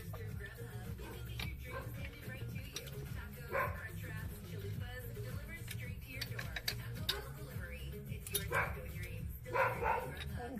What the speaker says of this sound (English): What the heck are those dogs barking at?